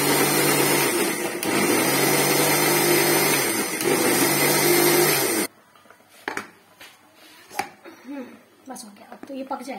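A kitchen mixer-grinder blending red and green tomatoes runs loud and steady with a whining motor hum for several seconds, then stops abruptly, leaving clattering kitchen sounds and a person talking.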